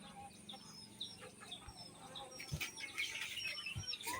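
Chickens and ducks in a coop cluck and call softly, with a rustle or flap now and then, faint and at middle distance over a low background hum.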